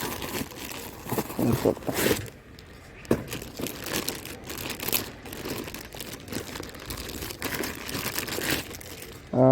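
Cycle saddle bag being unboxed, its packaging crinkling and rustling in bursts close by, with someone talking over most of it.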